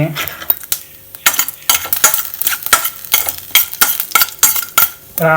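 Cumin seeds being stirred and lightly fried in a pan for mushroom curry: repeated scraping strokes of a spoon against metal over a soft sizzle, close and fairly loud, with brief pauses between strokes.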